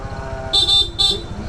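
A Blaupunkt horn on a Honda ADV 160 motorcycle gives two short, loud, shrill honks in quick succession over a low idling engine.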